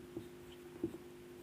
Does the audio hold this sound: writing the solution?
yes